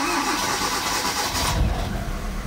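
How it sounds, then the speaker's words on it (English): A car engine cranks over and catches after the battery has been charged, the starter whirring briefly before the motor fires and settles into a steady idle, close and loud with no talking. "And now let's try turning on the car."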